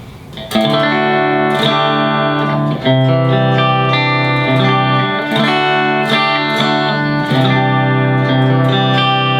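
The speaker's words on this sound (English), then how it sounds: "So that's just the clean setting from the preamp." Electric guitar played through a KSR Ceres three-channel preamp pedal on its clean setting, ringing chords and picked notes with sustained harmonics and light ambience, loud and steady alone for about nine seconds.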